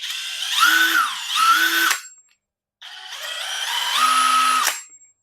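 A cordless Takuoo impact gun runs in two bursts, its whining motor revving up and down with variable speed, each burst lasting about two seconds with a short silent gap between, loud and close with no talk.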